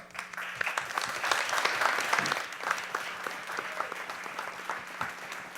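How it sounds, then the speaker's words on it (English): An audience at a school board meeting gives sustained, dense applause, a steady crackle of many hands clapping at moderate distance. "give a round of applause"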